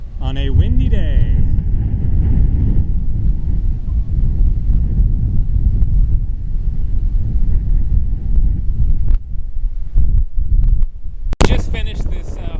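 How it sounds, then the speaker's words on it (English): Steady wind at Kumbara Beach on a Greek island buffets the microphone with a constant low roar throughout, broken by a sharp knock near the end. "this is Kumbara Beach on a windy day."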